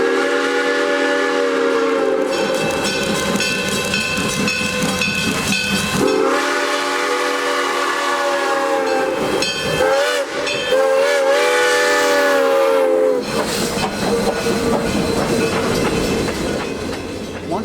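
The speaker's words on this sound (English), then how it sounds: "train continues downhill to the Nantahala Outdoor Center" Smoky Mountain Express excursion train rolling downhill through the Nantahala gorge. Loud, close horn blasts sound in long sustained calls, with rumbling wheels and rail noise underneath and no voices.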